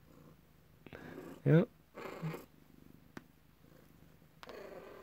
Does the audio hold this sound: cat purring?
yes